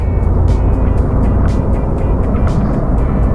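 Scania V8 R580 truck with wheels slipping under load, a loud steady low engine and tyre rumble with faint repeated ticking on top, no speech.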